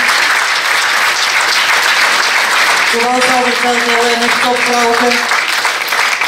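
Audience applause at the Mrs Universe Belgium 2020 pageant, a dense and steady clapping that fills the whole clip while a voice speaks over it partway through.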